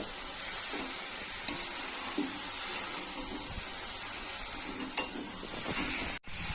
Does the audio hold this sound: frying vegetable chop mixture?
yes